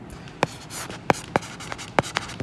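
Chalk or marker writing on a board during a class on relations and functions, with sharp tapping strokes at irregular intervals over a quiet room, no speech.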